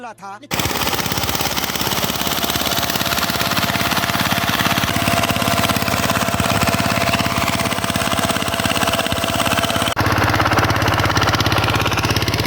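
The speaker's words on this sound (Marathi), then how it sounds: "कोल्हापूरमधील ट्रॅक्टरचा आवाज ऐकून खूप भारी वाटलं" A tractor engine runs steadily in a Kolhapur sugarcane field, a loud continuous rattling chug that goes on without a break for the whole stretch, with a slight change in tone near the end.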